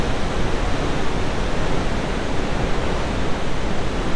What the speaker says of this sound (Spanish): A ver si la cascada no hace mucho ruido.